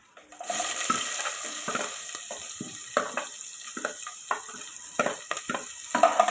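Fennel, cinnamon and cloves sizzle in groundnut oil in a pressure cooker, a close steady frying hiss starting abruptly, with scattered clinks and stirring scrapes over it.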